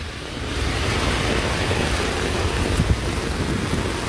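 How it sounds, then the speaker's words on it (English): Heavy rain floods a street during a flash flood, a dense, steady roar of water and downpour that stays loud and close throughout with no speech. "Absolute mental weather. The street is now a river."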